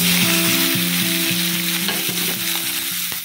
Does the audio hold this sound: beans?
yes